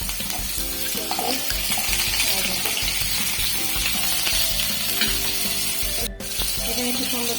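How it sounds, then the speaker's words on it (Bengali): Potato, pumpkin and papaya pieces fry in oil in a pan, a loud, dense, continuous sizzle with occasional stirring clatter and a brief dip near the end. "এখন আমি সব সবজিগুলো একটু ভেজে নেব।"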